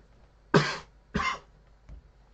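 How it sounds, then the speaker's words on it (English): Two sharp, close coughs in quick succession, followed by a fainter third, with quiet in between. "After I cough up a storm"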